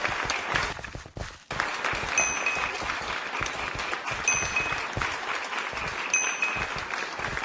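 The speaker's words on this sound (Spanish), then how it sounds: "Aplausos por mi cumpleaños, aplausos" A crowd applause sound effect, dense clapping that runs steadily for several seconds with one brief dip partway through, played loud and alone with no talking over it.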